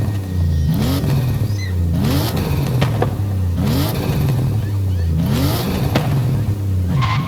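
Toyota Chaser with a stock-exhaust 1JZ engine in the Forza Horizon 5 video game, revving repeatedly in loud, rising sweeps with a faint, subtle exhaust crackle beneath, no talk over it.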